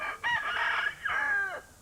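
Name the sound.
chicken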